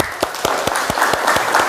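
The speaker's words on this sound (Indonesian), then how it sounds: "Aplaus untuk kita semua." A group applauding after an instruction session in a classroom, with dense, steady clapping and sharp individual claps standing out in a fairly regular rhythm, loud and close.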